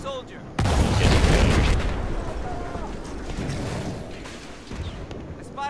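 Gunfire and a heavy blast aimed at a tank in the game Battlefield 4, a loud booming burst that rumbles and fades into sustained battle noise.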